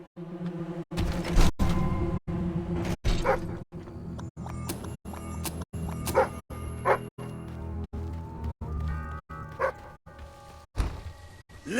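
A dog in the video game Fable 3 barks and yips repeatedly in short, loud bursts, mixed with whimpers, thuds and choppy game sounds that cut in and out.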